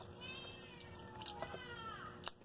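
Cats meow and yowl at each other in the background, drawn-out faint cries with a sharp squeal near the end.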